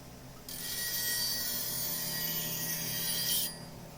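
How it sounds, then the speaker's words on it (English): A steel woodturning gouge is being reshaped against an abrasive, giving one continuous harsh rasping grind that starts abruptly, holds steady for about three seconds at close range, then stops. "So I'm cleaning up the profile of this gouge."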